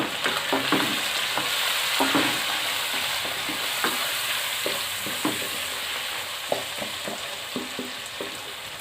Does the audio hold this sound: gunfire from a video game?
no